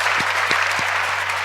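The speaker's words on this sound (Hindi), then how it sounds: "मंच से मैं चाहूंगा एक बार आप लोगों के सम्मान में ताली" Audience clapping at a Hindi poetry gathering, a loud, dense, continuous round of applause with a steady low hum beneath and a few distinct sharp claps poking through.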